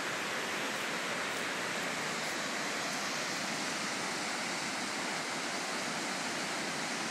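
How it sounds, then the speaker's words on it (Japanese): Ayutsubo Falls roars continuously, a dense, even rush of falling water filling the scene with no voices. "鮎壺の滝です。"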